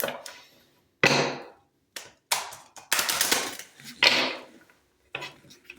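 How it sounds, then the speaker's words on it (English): Cards being shuffled by hand come in short, sharp bursts of riffling and snapping, several separate clattering runs with quiet gaps between them, close and fairly faint, with no voice. "That's not shuffling the way I needed to shuffle."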